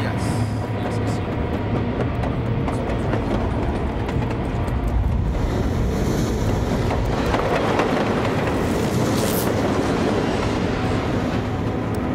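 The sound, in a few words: train running on rails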